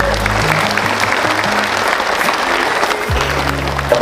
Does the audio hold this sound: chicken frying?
no